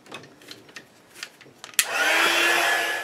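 An ink-resist embossed card is dried with a dryer. A few faint handling clicks come first, then the dryer switches on with a sudden loud blast that settles into a steady, close whoosh.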